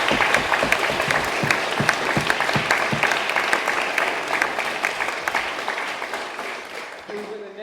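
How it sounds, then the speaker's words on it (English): An audience at an evening debate event breaks into sustained, dense applause that gradually fades, and a voice briefly comes in near the end. "I don't doubt that they deserve a second round of applause altogether"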